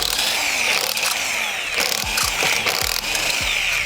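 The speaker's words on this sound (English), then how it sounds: "We can take off the other wheel bolts," An impact wrench or ratchet spins wheel bolts off a MINI Cooper, a loud close mechanical whirr with repeated rattling bursts and short pulses over a few seconds.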